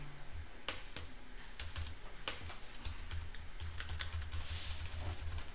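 Text is tapped out on a computer keyboard in quick irregular bursts of clicking keystrokes, close but fairly quiet, with no speech over it.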